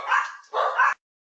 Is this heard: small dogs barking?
yes